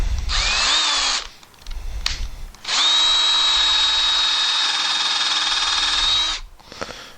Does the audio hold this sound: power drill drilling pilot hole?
yes